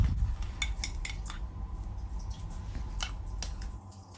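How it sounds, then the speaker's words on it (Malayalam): A spoon stirs melted dark chocolate with a tablespoon of condensed milk for an Oreo pudding, giving repeated light clinks and scrapes against the bowl over a low steady background. "അതിലേക്ക് ഞാൻ 1 ടേബിൾ സ്പൂൺ മിൽക്ക് മെയ്ഡും കൂടെ ചേർത്ത് നല്ലപോലെ ഒന്ന് മിക്സ് ചെയ്ത് കൊടുക്കുകയാണ്."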